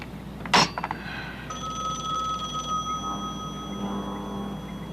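A telephone bell rings in an indoor police-drama scene, a sharp clattering ring followed by a steadier, quieter ringing tone that carries on alone for a few seconds.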